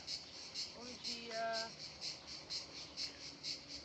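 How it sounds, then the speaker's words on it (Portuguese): Cicadas sing on a Greek beach during a morning of wild camping, a steady run of evenly spaced buzzing pulses, with a brief tonal call rising in the middle. "Bom dia ao canto das cigarras."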